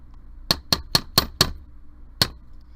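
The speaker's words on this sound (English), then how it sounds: "while I've got my hammer in play, I'm gonna hammer out my ends as well, still with the flat side of my chasing hammer" The flat side of a chasing hammer strikes a metal cuff on a hard surface, five quick, sharp, ringing blows in a steady rhythm, then a pause and one more strike, close and clear.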